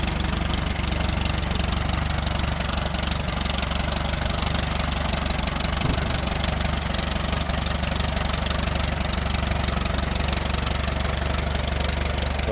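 A restored 1951 Case VAC gas tractor engine idles smoothly and continuously close by, a steady low throbbing drone with no breaks or voices.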